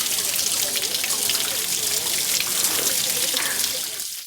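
Clear water from a shallow village well, about ten feet deep, gushing and splashing continuously at close range, a dense bright rushing wash with a faint voice underneath.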